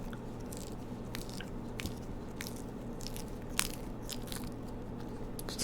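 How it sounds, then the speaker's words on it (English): Exaggerated film-style chewing and crunching: close, wet bites and crisp crunches repeating irregularly over a quiet background, one louder snap partway through. "It's just like the worst chewing sounds you've heard."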